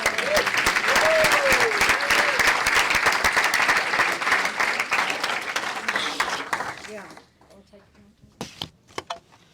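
A room full of people at a Republican candidate forum gives a loud round of applause that runs for several seconds, then cuts off into near quiet broken by a few scattered claps, with faint talk beneath.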